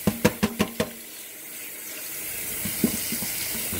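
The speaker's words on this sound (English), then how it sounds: "I'm running tap water over this." Water runs steadily from a tap over a fish tank filter being rinsed and shaken, splashing under a series of quick knocking clatters at the start and a few more toward the end.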